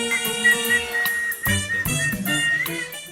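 Whistling in a comedic pet clip, a bright melodic tone rising and falling over about three seconds against a busy, layered background.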